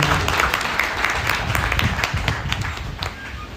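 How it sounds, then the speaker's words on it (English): A crowd at a graduation ceremony applauds with dense, steady clapping that holds its level throughout, a few sharper individual claps standing out near the front. "Can we clap one, give him one more round of applause?"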